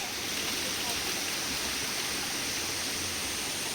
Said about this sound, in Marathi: खडखडणारं पाणी आणि हा छोटासा धबधबा